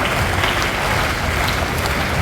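Steady applause from an audience at a cadet camp gathering honoring the staff, dense and continuous clapping with no pauses.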